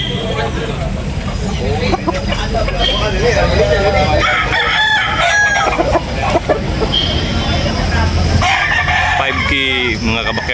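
Roosters crow repeatedly and loudly at a poultry market in Tabunok, Talisay, several drawn-out calls overlapping with clucking chickens and someone talking throughout.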